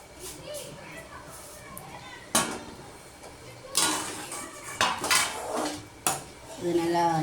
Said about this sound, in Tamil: கொஞ்சம் கொஞ்சமாக சேர்த்து இப்படி நல்லா கலந்து ஊற்றுக்கோங்க